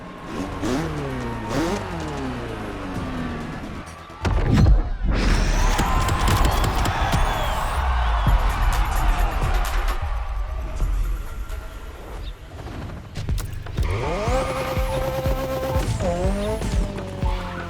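A BMW tears along the roads of Maui in The Crew Motorfest, engine revving up through gear shifts with tire squeals and skids, loud and continuous for the whole stretch.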